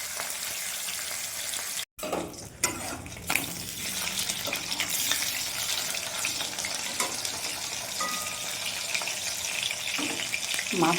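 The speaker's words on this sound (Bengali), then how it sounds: "মাছটা একদিকটা ভাজা হয়ে গেছে, আর একদিকটা ভেজে নেব।" Fish rubbed with salt and turmeric fries in a kadai with a steady, even sizzle, broken near the start by a couple of brief clatters, with no speech.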